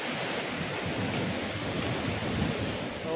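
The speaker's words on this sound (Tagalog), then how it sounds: "Grabe ang grabe ang dagat. Parang galit." Rough sea waves break along the rocky shore at Sabang, Palawan, a steady, close roar of surf with wind noise and no pauses throughout.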